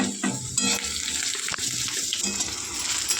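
Curry leaves drop into hot oil while poha is cooked, producing a continuous close crackling sizzle with small pops throughout.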